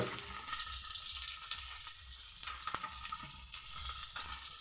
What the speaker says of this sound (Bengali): প্রথমে 5 ফোড়ন শুকনো লঙ্কা দিয়ে দিলাম।